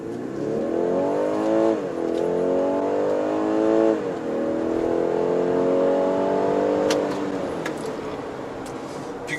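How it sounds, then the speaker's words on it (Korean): A BMW X3 xDrive30e plug-in hybrid SUV engine revs hard through several gear shifts while accelerating to 100 km/h, the pitch climbing, dropping and climbing again, loud and close with a deep roar. "엔진 사운드 강하게 들리는데 그렇게 거슬리지 않고요"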